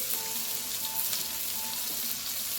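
Chopped onion fries with shrimp in oil for a kalmi greens dish, giving a steady, even hiss and sizzle at close range, with faint scattered crackles and no voices.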